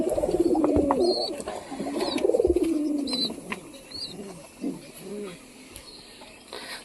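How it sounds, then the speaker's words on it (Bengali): Low, throaty coos of pigeon chicks rise and fall in bursts up close, with a few faint higher chirps in the background. "তো লালু কবুতরের বাচ্চা তোমাদেরকে দেখাবো"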